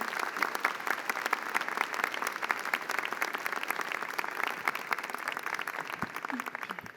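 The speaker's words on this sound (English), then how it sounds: "Please give them a warm round of applause." An audience at a university convocation applauds, sustained dense clapping from many hands at a steady level that begins to thin at the very end.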